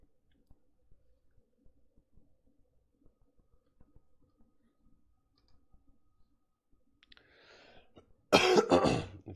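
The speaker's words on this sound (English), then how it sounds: "If you hear me clear my throat" A meditation guide recovering from a cold clears her throat once, a short harsh burst near the end of a long hush filled only with faint ticks and small clicks.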